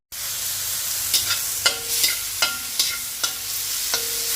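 Garlic, onions and ginger sautéing in a pan for chicken curry, with a steady sizzle broken by repeated clinks and scrapes of a stirring utensil against the pan, close and with no talk.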